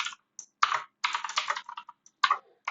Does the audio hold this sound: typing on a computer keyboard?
yes